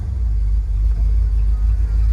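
A 1979 Ford Bronco's engine idles with a steady, heavy low rumble as it is shifted into gear, loud and close with no sharp revving.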